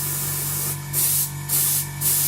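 An airbrush set at about 30 psi sprays paint onto a B-24 model kit in short, even bursts. Three close, soft hissing pulses rise over a steady background hum.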